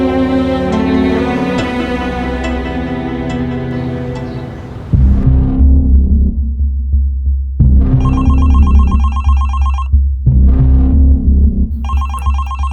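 A telephone ringtone sounds in two loud electronic bursts with a steady low hum underneath, following a stretch of sustained musical tones.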